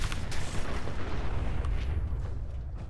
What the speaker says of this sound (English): Yeah, that's a fucking nuka grenade.